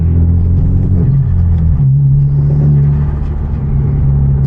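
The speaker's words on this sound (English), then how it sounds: "show off my exhaust and the intake on this car" A Hyundai Genesis Coupe with a turbo and loud aftermarket exhaust drones under steady driving load, a deep, close engine rumble with a strong low hum that shifts pitch as the revs change.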